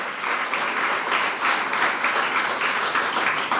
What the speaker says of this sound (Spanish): Si lo entendió, dele fuerte el aplauso al Señor.